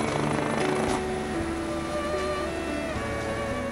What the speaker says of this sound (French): La providence se manifeste alors sous la forme d'un hélicoptère de la protection civile.